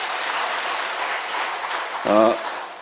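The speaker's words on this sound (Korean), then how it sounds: "하나님께 영광의 박수 한번 올릴까요?" Church congregation applauding during a Korean sermon: a steady, moderately loud wash of clapping throughout, with a brief voice breaking in near the end.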